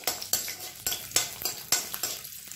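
Rhythmic scraping and clinking of a utensil stirring ginger, garlic and spices in a pan, with a faint sizzle underneath, close up and steady.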